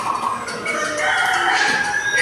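Chickens clucking and a rooster crowing close by, a short burst of rising and falling farmyard calls with no talk over them.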